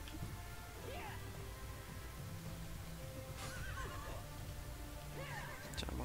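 Horses whinny several times in a medieval battle video game, shrill repeated neighs over a dense background of combat noise and distant voices, one horse having just been killed.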